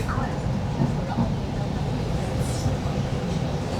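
A Sheffield Supertram pulling into a city tram stop, a low rumbling rolling hum with faint squeals over steady street ambience, a voice murmuring nearby.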